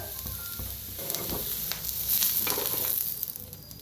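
Tomatoes roast in a hot pan with a steady close sizzle and frying crackle, swelling louder midway, with occasional light stirring and no talking.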